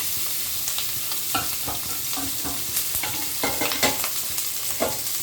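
Onion and capsicum fry steadily in a pan, a dense continuous sizzle broken by occasional stirring scrapes, close and fairly loud with no voices.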